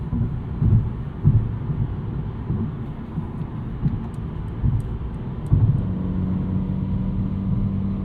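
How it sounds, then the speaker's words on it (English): Inside a 2024 Mercedes CLA 35 AMG coupe on the road, a steady low tire rumble is punctuated by several thumping bumps from expansion joints at irregular intervals, moderately loud and without talk. "Can get a bit of a taste for our road noise and everything here. Expansion joints, you feel them, you hear them."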